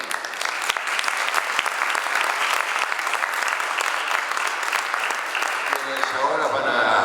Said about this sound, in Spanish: Les pido un aplauso para el panel.